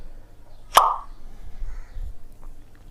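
One loud, close pop like a bottle being opened, demonstrating hydrogen gas burning, followed by a faint low rumble and quiet background.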